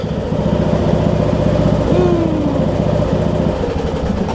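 A rebuilt John Deere D110 lawn tractor engine runs steadily under load with its governor working, a continuous, even mid-pitched drone heard nearby.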